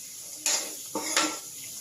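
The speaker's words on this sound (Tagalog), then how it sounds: "Ilagay na natin ngayon ang ating talong. Ang ating talong, tapos i-mix lang natin." Eggplant being stirred in a pan for sisig talong, a utensil scraping and clanking against the metal in two or three close, bright strokes over a soft sizzle.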